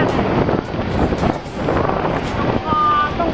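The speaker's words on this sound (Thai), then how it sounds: "ลมมันแรง" Strong wind buffeting a microphone outdoors on a trip in Korea, a loud continuous rumbling roar that swells and dips, with a voice faintly underneath.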